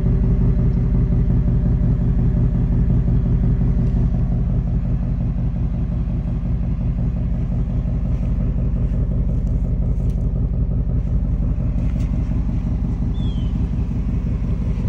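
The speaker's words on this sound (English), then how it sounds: "Ford Performance active exhaust." A 2024 Ford Mustang GT V8 idling through a Ford Performance active exhaust, a deep, steady throbbing rumble that stays loud and close throughout, with no voices over it.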